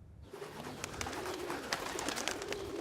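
A pigeon coos nearby, a soft, throaty rolling call repeated over a steady outdoor hiss of ambient noise.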